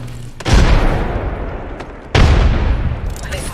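Two loud frag grenade blasts in a video game, each a sharp boom with a decaying rumble, about a second and a half apart.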